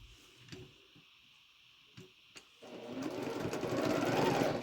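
A domestic sewing machine stitches the middle and bottom rows of a star quilt together, starting after a few clicks and knocks with a rising, steady mechanical whir that stays close and fairly loud to the end.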